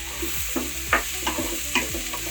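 Onions sautéing with chicken in a pan, a soft continuous sizzle broken by several scraping stirs of a spoon, close and fairly quiet.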